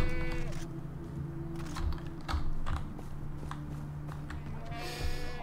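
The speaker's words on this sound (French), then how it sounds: "toutes ces chèvres" Goat bleats ring out over a steady droning Far Cry 3 game soundtrack, with a few quick clicking sounds scattered throughout.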